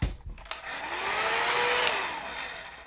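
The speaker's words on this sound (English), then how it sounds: "I'm supposed to use the hairdryer" A hair dryer whirs steadily at close range while drying a silver craft piece, its airy roar rising and holding after a couple of brief knocks at the start.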